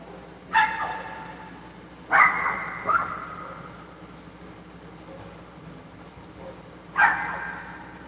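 Dog barking outdoors, four sharp single barks spaced irregularly over a low background hum, moderately distant.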